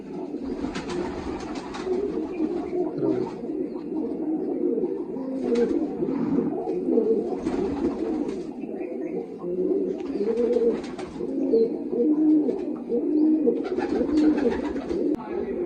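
Large Punjabi racing pigeons coo in rolling, repeated bursts close by, throaty calls overlapping against a low steady background, with brief higher chirps now and then.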